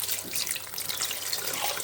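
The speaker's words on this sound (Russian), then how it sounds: "Так, и заливаем водой литр." About a litre of water pours into a pot for Estonian bread soup, a steady close hiss and splash of running water without talk.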